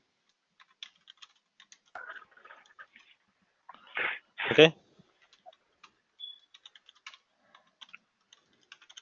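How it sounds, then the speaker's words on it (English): Keys on a computer keyboard tap in sparse, quiet bursts during an online meeting, a brief voice cutting in midway while scattered clicks continue around it. "Are you typing something?"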